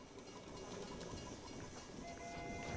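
A toy West Virginia train set in the video game Fallout 76 runs continuously with a faint steady rolling rumble and hiss. Light rhythmic clicks sound under it, and no one talks.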